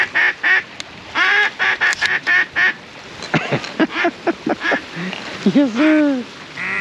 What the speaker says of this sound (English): look where that duck's at